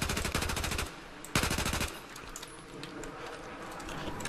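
A 10-round burst from a gun in the video game Battlefield 4: two rapid, loud strings of automatic shots, each about half a second long, followed by faint ambient game noise.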